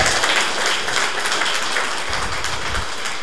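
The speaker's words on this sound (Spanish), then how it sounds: "Denle un aplauso a Dios." A church congregation applauds continuously, a dense, steady wash of clapping at fairly loud volume throughout.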